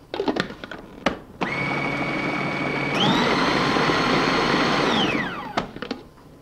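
A food processor whirs steadily, blending sole and salmon into a mousse with white pepper. It runs for several seconds, rises in pitch partway through, then winds down, with a few clicks and knocks before and after.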